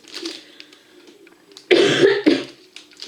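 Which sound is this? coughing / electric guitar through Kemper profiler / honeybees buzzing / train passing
coughing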